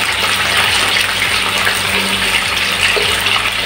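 Water pours steadily into a container to dissolve a sauce mix for sweet and sour tilapia, a loud, continuous rushing gush heard up close with no talking.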